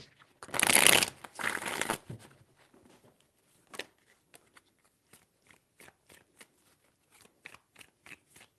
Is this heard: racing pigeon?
no